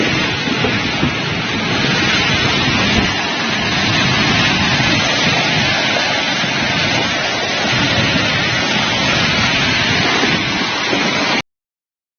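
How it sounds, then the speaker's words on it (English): Heavy rain from a severe storm in Italy roars steadily and loudly, with low rumbles of thunder rolling underneath, continuous until it cuts off abruptly near the end. "never seen a rain like this"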